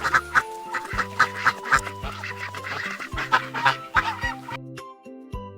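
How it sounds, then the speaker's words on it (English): A duck quacks in a quick, regular series of loud, close honking calls with a steady rhythm, then falls silent at the end. "A duck says, quack, quack."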